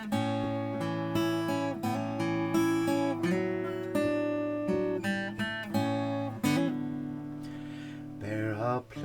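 Fingerpicked acoustic guitar playing a song, a clear melody over rolling bass notes and ringing chords, solo with no voices.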